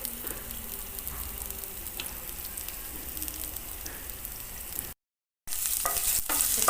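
Grated ginger and green chili frying with cumin seeds in a pan, a steady close sizzle with scraping stirs throughout, then a brief dropout before louder sizzling and clatter resume.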